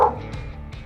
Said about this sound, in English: Brutus won't stop barking at it